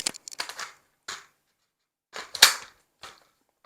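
Several sharp mechanical clicks and snaps from a carbine during home dry-fire practice with magazine changes, in irregular bursts, close and crisp, with short silent gaps between them.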